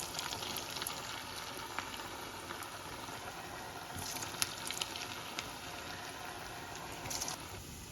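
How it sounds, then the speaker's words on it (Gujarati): Aloo vada balls deep-frying in hot oil over a medium flame, giving a steady, soft bubbling sizzle with scattered crackles and small pops running throughout. "એક એક કરીને આ બોલને અંદર મૂકીશું અને ગોલ્ડન બ્રાઉન થાય ત્યાં સુધી આપણે એને ક્રિસ્પી તળી લઈશું"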